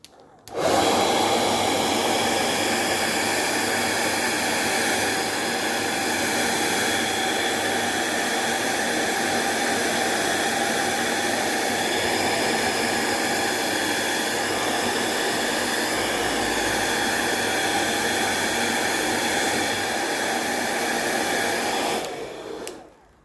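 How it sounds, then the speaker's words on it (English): An old hair dryer with a narrowed nozzle blows steadily on fluid art paint, a loud continuous whooshing roar that runs unbroken for over twenty seconds with no talking. "Once I used my old hairdryer, because I'd narrowed the opening,"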